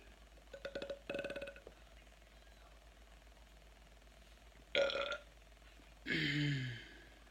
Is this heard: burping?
yes